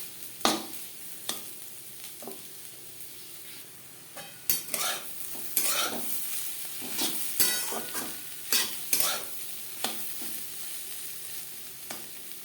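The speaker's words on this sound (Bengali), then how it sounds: "ডিমের আলুর সাথে ডিম বেশ ভালো করে মিক্স করে দেবো এক দু মিনিট নাড়াচাড়া করে নেবো" Egg and potato being stirred together in a frying pan over a medium gas flame, a steady sizzle broken by repeated scraping strokes of a spatula at an uneven rhythm, close and moderately loud.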